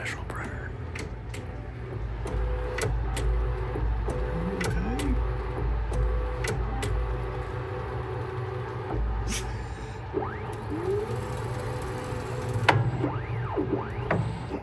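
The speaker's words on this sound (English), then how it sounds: "Some of these self-checks are so thorough that you might think your machine's broken." A Creality K2 Plus 3D printer runs its self-checks, steady mechanical whirring and motor hum with repeated short clicks and rising whine sweeps from stepper movements, close and continuous throughout.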